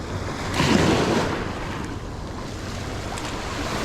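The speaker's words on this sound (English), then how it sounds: "This is an awesome beach." Waves wash onto a limestone beach on Kelleys Island, Ohio, one swell rising briefly and then easing into a steady low surf rush mixed with wind buffeting the microphone.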